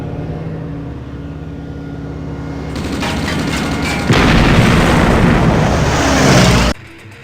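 A naval ship destroyed in the video game Command & Conquer: Red Alert: a deep rumbling boom swells into a loud, sustained blast that runs several seconds and then cuts off sharply.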